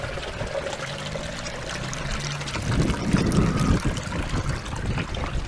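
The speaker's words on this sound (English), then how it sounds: "Here we can hear the water flowing alongside and underneath." Tidal water trickles and laps steadily near the bank at Lytham, swelling a little louder midway, with no voices.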